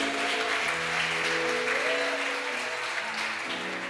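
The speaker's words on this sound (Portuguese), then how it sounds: "Vamos aplaudir Jesus." Congregation applauding in church during a service, sustained hand clapping from many people at steady volume, with sustained tonal music or voices lingering beneath the clapping.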